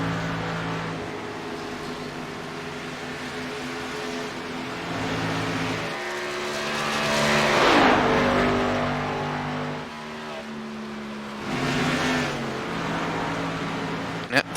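Race cars lapping a speedway in a stock car race broadcast, engines roaring continuously with several loud passes swelling and fading as cars sweep by, a steady motor drone throughout.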